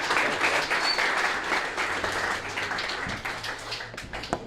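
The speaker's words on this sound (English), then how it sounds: "Can we give him one round of applause real quick?" An audience at a motion-capture industry talk claps in a short round of applause, steady and fairly close, tapering off toward the end.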